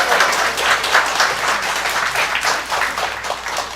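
Congregation at a Unitarian Universalist fellowship service applauding a new member, a steady, dense wash of many hands clapping throughout, fairly loud and continuous with a faint voice or two underneath.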